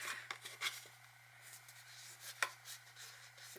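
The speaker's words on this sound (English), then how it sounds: "I'm going to cut a hinge." Paper being cut for a hinge on a mini album, heard as a few quiet, crisp snips and scrapes spread across a hushed room with a low electrical hum underneath.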